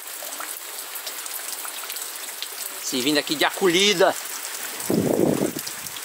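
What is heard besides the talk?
windy rain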